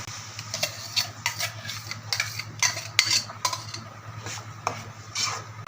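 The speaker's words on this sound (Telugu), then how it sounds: "టమాటా పేస్ట్ మంచిగా కలిసేటట్టు కలుపుకోవాలి" A metal spoon stirs tomato paste into a meal maker curry in a pan, giving rhythmic scrapes and clinks against the vessel over a low steady hum, with no one talking.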